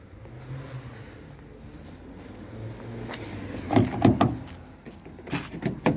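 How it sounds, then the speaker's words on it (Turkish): A 2010 Mazda 6 with keyless entry locking its doors by remote, a low hum followed by a cluster of mechanical clicks and thumps from the door locks, fairly close. "Sinyal verdiğine göre kapıları kilitledi."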